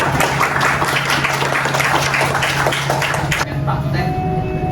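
Applause at a PKM UBSI 2025 web programming presentation, a short burst of clapping over room noise and a low hum, fading out after about three seconds.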